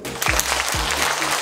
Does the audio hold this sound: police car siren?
no